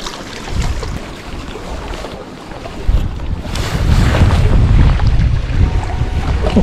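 Wind blowing across Lake Biwa during a fishing outing, a steady, loud rush of gusty wind buffeting the microphone, swelling stronger in the second half, with no talk.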